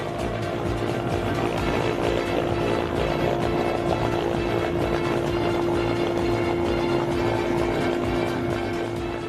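A steady, droning rotor roar with a continuous engine hum holds at constant loudness throughout, from a rescue helicopter flying close by over flooding in rain.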